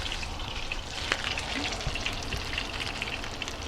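Chicken fries in a pan of oil over medium-high heat, giving a continuous dense sizzle with small popping crackles, close and fairly loud, with no talking.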